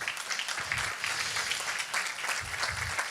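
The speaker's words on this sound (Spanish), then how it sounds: "Un aplauso para el Señor." A church congregation at a worship service clapping together in a steady, moderately loud wash of many hands, sustained and even with no speech over it.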